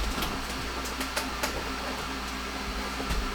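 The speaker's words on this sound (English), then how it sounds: "That's why you hear my printer going." A 3D printer prints inner fenders for a Zoku VS4-10 straight-axle build, giving a steady mechanical whir with light rhythmic ticks and clicks, close by and continuous.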